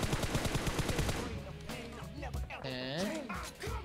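Rapid automatic gunfire in an online shooter video game, a fast run of loud close shots that stops abruptly, followed by a player talking excitedly over the game sounds.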